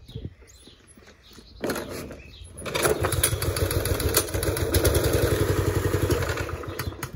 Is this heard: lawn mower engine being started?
yes